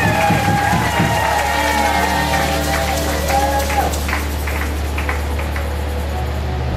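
A church congregation acclaims the Lord with steady, dense applause and crowd noise, cheering voices and music tones running loud and continuous throughout.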